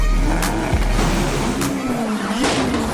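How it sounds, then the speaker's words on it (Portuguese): Old but highly tuned race cars speed past on a track, with a close, loud engine drone shifting in pitch and brief tire-squeal bursts. "Olha! são carros altamente tunados."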